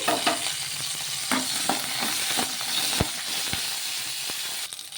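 Green chillies frying in oil in a kadai for a quick chutney, a constant loud sizzle with scattered spitting pops and the scrape of stirring, no talk.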